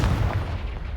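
A Confringo fire blast spell from Hogwarts Legacy, a loud, booming, explosive burst with a heavy low rumble that holds steady through about a second and carries no talk.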